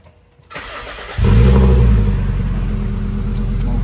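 A Fiat Marea's engine cranks and catches, then settles into a loud, steady idle rumble that runs close by with no talk over it.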